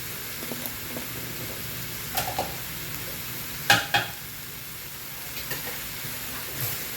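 Pork stir-fries in oil for a Thai holy basil mixed-meat dish, with a steady sizzle under it, occasional scraping stirs and a few sharp clinks of a metal spatula against the pan; no voices are heard.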